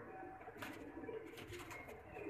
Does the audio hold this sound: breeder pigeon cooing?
yes